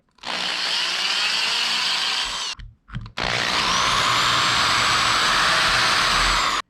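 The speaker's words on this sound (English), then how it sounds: "we need to drill a hole in the top of our lid and the bottom of our knob" A power drill bores a hole through a wooden bowl lid in two loud sustained runs, separated by a brief pause with a short stutter of the motor.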